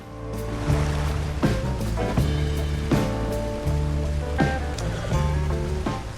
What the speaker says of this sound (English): Here we're crossing the Upper Kamasa River in Roanoke Ridge.